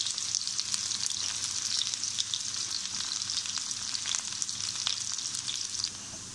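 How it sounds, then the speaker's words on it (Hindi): Continuous hissing sizzle of onions frying in hot oil, close up, with light pops and crackles throughout and no voices. "प्याज को हम हल्का फ्राई कर लेंगे"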